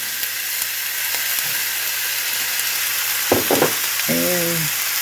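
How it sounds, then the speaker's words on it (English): Ground turkey and onion frying in a little oil in a preheated skillet, giving a steady close sizzle with a brief voice and a short clatter near the end. "Okay, I've preheated my pan and put a little bit of oil in it. Now we're going to cook our turkey"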